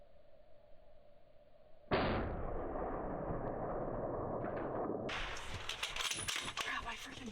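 A single gunshot fired at a wild hog, a sudden loud blast followed by a sustained rumbling tail and rustling outdoor noise, with faint voices around it.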